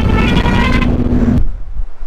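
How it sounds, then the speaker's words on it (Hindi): A bus horn blares loud and steady for over a second on a highway, mixed with road and engine noise, then cuts off and leaves passing traffic rumble. "ये बस वाले जो भाई साहब हैं इनका हॉर्न बड़ा मस्त है"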